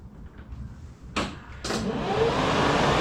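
Electric radiator cooling fans on a car start up after the ignition is switched on: two sharp clicks followed by a rising, steady whooshing whir that settles into a constant broadband hum, close by.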